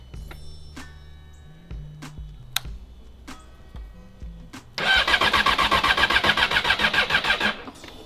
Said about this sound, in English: No throttle used, just pressing the starter button first try.